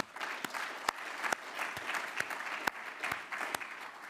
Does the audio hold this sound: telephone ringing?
no